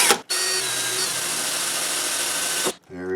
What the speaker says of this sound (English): I'm going to start off with a tiny drill just to get